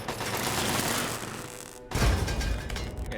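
Gunfire and explosions from the video game Fallout 3 as turrets are shot and blown up, a dense rapid burst of shots followed by a heavy boom and continued firing, loud and without talk.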